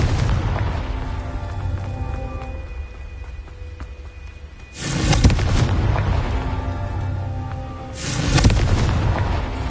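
A Confringo fire spell from Hogwarts Legacy goes off in two loud, deep booming explosions a few seconds apart, set over a steady game soundscape with no talking.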